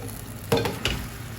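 Chicken in coconut milk being stirred in a pot, with two short scraping, sloshing strokes over a low, steady simmering background.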